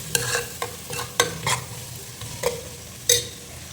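Masala with chili powder frying in a pan for a fish curry, with a steady low sizzle broken by several sharp stirring scrapes at irregular intervals, close and fairly quiet.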